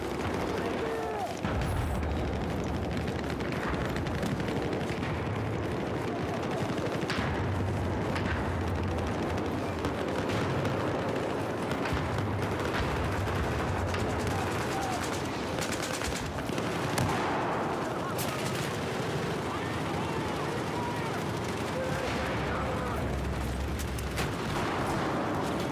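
Continuous MG4 machine gun fire in a battlefield video game, sustained rapid bursts mixed with distant explosions and a steady roar of combat, dense and constant throughout.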